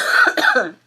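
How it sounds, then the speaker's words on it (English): One short, close cough from a person indoors, lasting under a second. "sorry if I cough."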